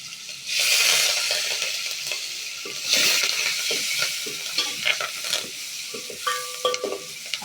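Garlic and curry leaves sizzle and crackle steadily in hot oil in a pan, with occasional stirring scrapes and small pops, close and fairly loud, no talking.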